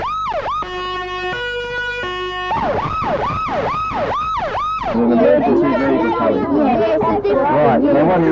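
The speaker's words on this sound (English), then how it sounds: "what do you do if you hear an emergency siren?" A loud emergency vehicle siren wails in rising and falling sweeps, briefly switching to a stepped two-tone pattern, then gives way to a jumble of voices and chatter.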